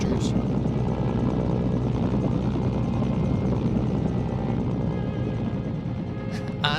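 Video game helicopter from the AN faction in Mercenaries, flown by mafia thugs, a steady dense rotor and engine drone holding at constant loudness throughout, with faint voice-like sounds mixed in.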